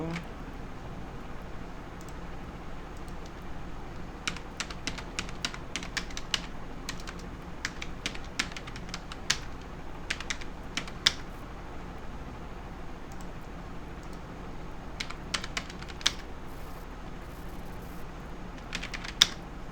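Computer keyboard typing in quick irregular bursts of light clicks, with short pauses between runs, heard alone over a steady low background hiss.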